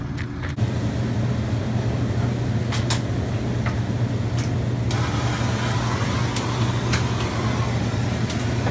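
A rooftop air conditioner condensing unit runs steadily nearby with a constant low mechanical hum and drone, its level unchanged throughout, with occasional faint ticks and clicks over the top.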